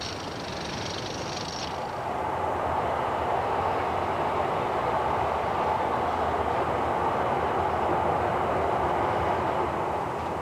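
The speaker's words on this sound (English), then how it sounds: "As the train arrives, it comes to a stop over the link to exchange information." A Docklands Light Railway train rolls along and arrives, giving a steady mid-range rumble and hiss that holds close and loud for several seconds after a brief higher whine at the start.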